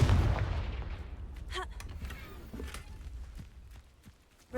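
A Confringo fire-blast spell goes off in Hogwarts Legacy with a sharp booming burst that decays into a rumbling tail and scattered crackles. No voice is heard over it.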